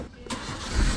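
A car engine turns over and catches, rising from a short crank into a low, building rumble over about a second.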